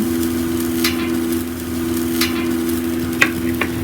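Sardines (mathi) frying in a pan with a steady, close crackling sizzle under a constant hum, broken by a few sharp spatters and taps near the end.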